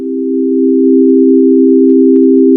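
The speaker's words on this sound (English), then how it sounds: "let's listen to this just triad," Steady synthesized just-intonation triad built from pure sine tones, a smooth, unwavering sustained chord heard alone, fading in briefly at the start.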